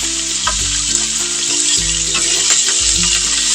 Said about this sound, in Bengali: এই যে মাছের ডিম দিয়েছি, সেই জন্য একটু ফুটে ফুটে উঠতেছে